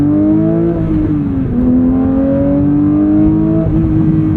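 A 2022 Porsche 911 GT3 engine revs loud and close to around 6,000 RPM, its pitch climbing and dropping in a few sustained sweeps with a throaty growl.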